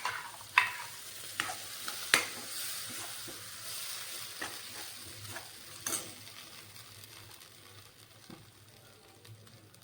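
Onion-coconut paste frying in an iron pan for egg curry, a soft low sizzle with scattered clinks and scrapes of stirring, faint and close.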